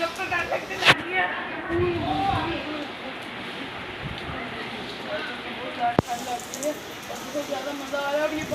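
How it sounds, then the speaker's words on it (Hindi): Heavy rain falls in a steady, dense hiss with a few sharper drips and knocks, while a voice talks over it. "अब ये बारिश इतनी तेज़ है"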